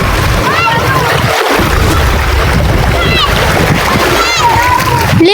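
Children splash while swimming in clear, deep sea water, with constant sloshing and splatter close by and excited kid voices calling and shrieking over the watery noise.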